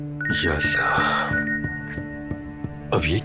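A telephone rings in a dramatic domestic scene, repeating short electronic ring pulses at a steady rhythm, moderately loud and close, while a voice speaks briefly over the start.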